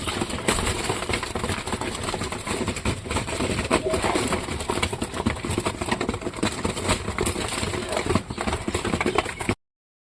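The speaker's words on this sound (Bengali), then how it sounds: "খুব সুন্দরভাবে খাচ্ছে কবুতরগুলা" Pigeons feeding at a home loft, a dense steady clatter of pecking and fluttering with soft cooing, close and fairly loud, continuous throughout with no talk.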